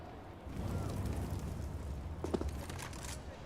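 An HE grenade bursts in Counter-Strike: GO during a FaZe vs NiP match at the PGL Major 2022: a dull, rumbling in-game blast with a sharper crack partway through, set in a steady bed of game noise.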